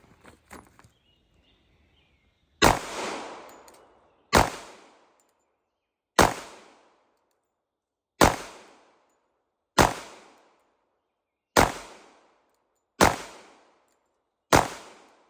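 Eight single shots from an HK USP .45 pistol ring out one at a time at a steady, unhurried pace, each a loud sharp crack with a short decaying tail, separated by silence.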